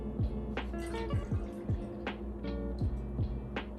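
Liquid soy or coconut-soy candle wax poured into a glass, a run of small gurgling, dripping plops with rising tones, quiet and close, repeating irregularly for a few seconds with no talking.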